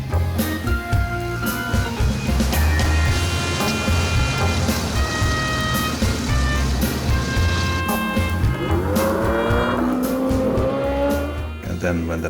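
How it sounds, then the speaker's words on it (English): Porsche 906 race car with a six-cylinder engine, loud and continuous revving with rising and falling engine pitch and tire squeal, a voice talking over it throughout. "Then when the 906 with this fascinating six-cylinder sound came in, and then the 908s."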